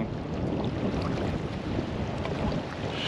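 Steady, broadband warm south wind rushing across the microphone on the Ambler River, continuous and fairly loud throughout with no voices.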